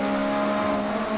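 A buggy engine in the Dirt 3 racing game holds a loud, steady, high-pitched drone with strong tonal harmonics, a continuous strained revving close up, with no pauses or voices.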